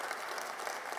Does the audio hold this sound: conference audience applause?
yes